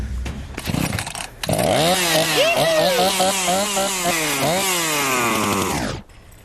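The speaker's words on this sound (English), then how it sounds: "Hey, you got another chainsaw." An old scrap chainsaw catches and runs after starting, its engine buzzing loud and close with wavering revs for several seconds before cutting out abruptly.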